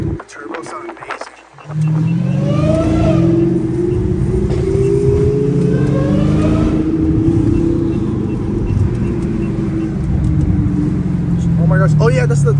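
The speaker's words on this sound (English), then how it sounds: "Oh my gosh, you hear that turbo sound amazing." A supercharged Dodge Challenger Hellcat Redeye pulls hard while cruising with McLarens, a loud, sustained engine roar with rising whine climbing steadily after a brief lull, close up, with people talking over it.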